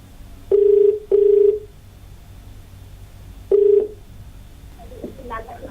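Telephone line tones on a live Hindi call-in TV programme as a caller is connected: two short beeps close together, a pause, then a third beep, followed by faint line noise and a murmur of voice.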